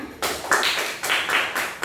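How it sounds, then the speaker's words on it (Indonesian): An elementary classroom of children claps hands in a fairly loud, close burst, several grouped rhythmic claps repeating in quick patterns for about two seconds. "beri dia tepuk tangan"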